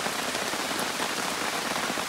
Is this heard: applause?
no